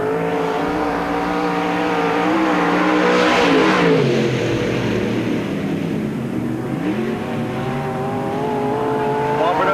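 Race cars on the track at Knox County Raceway, engines roaring loudly and continuously as they run down the back straight, pitch rising and falling with revving, while a commentator speaks over the noise.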